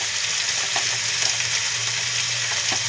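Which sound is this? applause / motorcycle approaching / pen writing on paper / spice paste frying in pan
spice paste frying in pan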